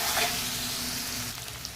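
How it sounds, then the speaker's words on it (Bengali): Spice paste (masala) sizzling in generous hot oil for a fish roe curry, a steady close frying crackle with faint stirring, no voices. "এবার মশলাটাকে ভালো করে কষিয়ে নেব।"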